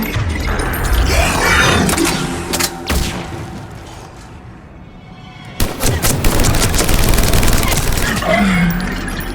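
Rapid bursts of gunfire from a gun in Mass Effect 3, loud and near, with sharp sustained volleys, a quieter lull midway, then renewed heavy firing amid mechanical game noise.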